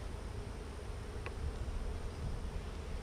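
Honey bees buzz in an open hive full of larvae and eggs, a soft, steady swarm drone that holds evenly throughout without any talking.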